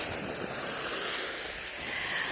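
Sea waves lap and wash nearby as a sleeping bag is soaked in the shallows, a steady hissing surf with some wind noise on the microphone, no talking.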